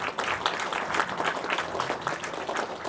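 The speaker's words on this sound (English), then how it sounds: "Big round of applause." A steady wash of applause from a crowd, continuous clapping throughout at moderate volume.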